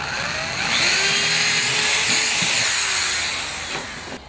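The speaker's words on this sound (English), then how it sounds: "I'm going to drill a hole right in the middle there" A loud, steady high-pitched whir of a power drill running continuously for several seconds, close by, with a slight pitch shift near the end.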